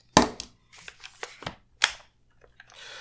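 Pins are pushed out of a B&T APC-9K pistol during disassembly, giving a few sharp metallic clicks and snaps close by, separated by brief pauses and softer handling rattles.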